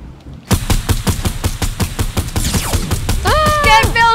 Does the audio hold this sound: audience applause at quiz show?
no